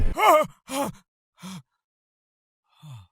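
A few sharp, breathy vocal gasps of someone waking in panic, in quick succession, tapering into softer, strained breaths with pauses between them.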